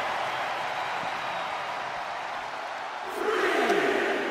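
Wrestling arena crowd at a 2007 ECW Championship handicap match, a steady broad roar of many voices that swells louder near the end as cheering rises.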